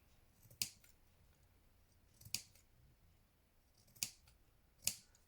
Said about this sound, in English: holding my scissors on the angle with the base and the top, and just cutting across